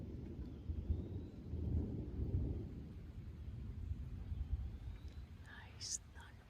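A low, distant rumble of thunder rolls through quiet outdoor air near Red River Gorge, with faint rustling near the end.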